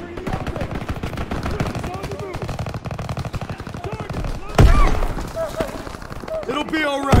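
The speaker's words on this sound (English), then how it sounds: "Gunfire this way!" Rapid machine-gun fire and scattered gunshots in Call of Duty: WWII, dense and continuous, with shouting soldiers in the mix and a heavy blast partway through.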